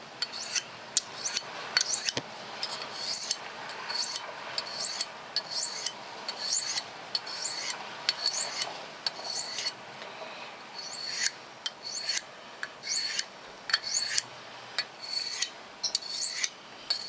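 Steel knife blade drawn repeatedly across a whetstone, a steady run of close, crisp rasping strokes in a regular back-and-forth rhythm, loud and alone with no talking.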